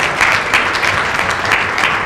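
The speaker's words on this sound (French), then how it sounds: "sous vos applaudissements" Loud, close applause from an audience at a civic cocktail presentation greeting a speaker, a dense continuous clatter of many hands filling the whole stretch.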